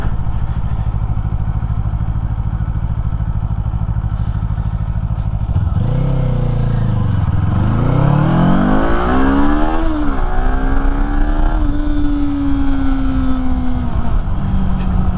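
A Kawasaki Eliminator motorcycle being ridden: a steady engine and wind drone, then loud intake and engine noise that dips, revs up and climbs in pitch through gear changes, close and dominant.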